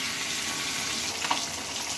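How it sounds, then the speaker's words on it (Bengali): A fish head fries in a pan for a mung dal and pointed gourd dish, giving a steady close sizzle with one brief scrape near the end and no voices. "মাছের মাথাটা প্রায় ভাজা হয়ে এসেছে"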